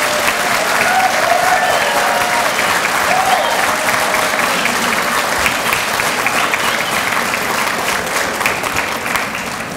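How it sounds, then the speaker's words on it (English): An audience claps steadily and loudly for nurse aide students at a college recognition ceremony. The dense applause holds for about ten seconds and eases slightly at the end. "Let's give a round of applause to our Nurse Aide 1."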